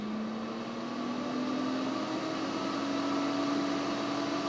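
A Ninja Crispi portable air fryer runs with a steady mechanical whir, a constant low hum and fan-like hiss, continuously at moderate volume with no talking.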